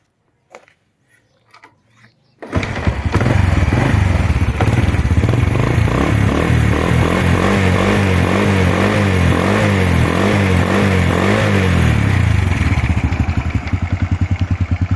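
A Honda Wave 100 motorcycle engine kicks into life after a few quiet clicks, then runs loud and close at a steady, slightly uneven idle for the rest of the time.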